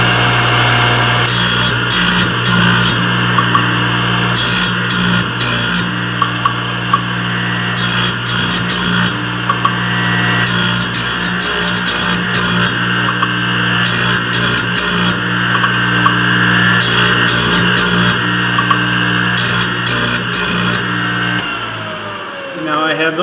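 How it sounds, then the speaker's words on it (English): Thorvie AV-40 grinder sharpening carbide saw blade teeth: a steady motor hum runs throughout, broken by repeated bursts of bright grinding as the wheel meets each tooth, close and loud, before winding down at the end. "I'm going to sharpen up every other tooth and every third tooth"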